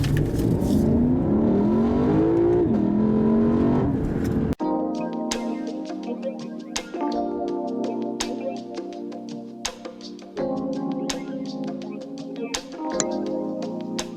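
A 2020 Lexus LC 500 luxury coupe with a 5-liter V8 revs, its engine note climbing in a few rising pulls over about four seconds before the sound cuts to quieter steady tones and sharp taps.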